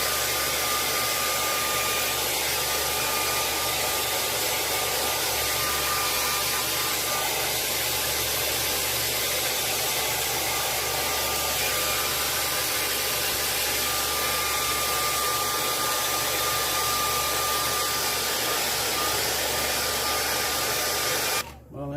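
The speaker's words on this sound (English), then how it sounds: "Blow dry all this up real quick." A blow dryer runs continuously at close range while drying a mounted gadwall duck, a loud steady whooshing roar with a faint hum that cuts off at the very end.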